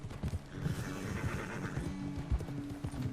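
Horse in Red Dead Redemption 2 galloping with steady, close clip-clop hoofbeats and a whinnying neigh partway through, under game ambience.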